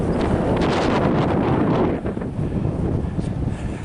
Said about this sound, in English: I apologize for the wind, but out here in the middle of the desert